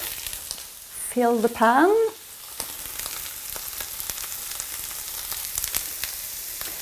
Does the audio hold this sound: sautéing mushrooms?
yes